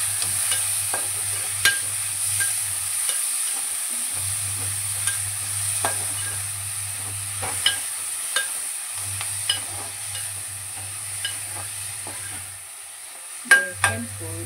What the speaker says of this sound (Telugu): పాలకూర, ఇవన్నీ నూనెలో బాగా ఉడకాలి.